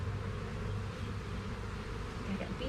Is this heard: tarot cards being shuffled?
no